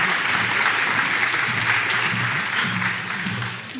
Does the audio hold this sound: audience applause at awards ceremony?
yes